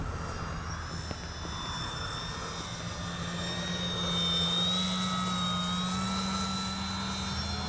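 H-King Kitfox RC model plane making a flyby, a continuous electric motor whine rising and shifting in pitch as it passes, steady and moderately loud against an outdoor background.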